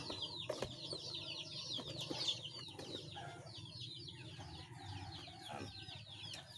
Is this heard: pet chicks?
yes